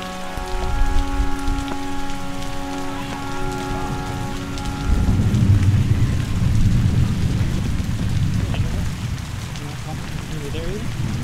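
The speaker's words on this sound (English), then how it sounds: "It's gonna rain" Rain pours at Angkor Wat, a steady loud hiss of drops hitting surfaces, joined by a low rolling rumble of thunder midway, with faint tones early on.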